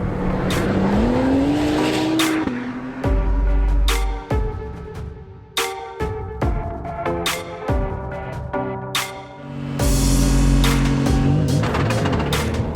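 Acura NSX race car driven at race speed, a loud, close engine howling and revving through rapid upshifts and sharp downshifts, with abrupt throttle lifts and bursts of acceleration, heard without talk.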